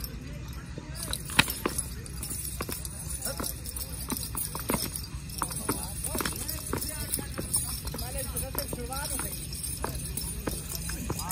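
Horse hooves clip-clop steadily at an even pace in a village in the evening, close and continuous throughout, with voices talking in the background.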